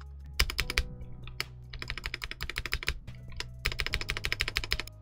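Typing on a Womier V-K66 wired 65% mechanical keyboard: close, crisp clacking keystrokes in quick bursts with short pauses between them, no voice over the sound.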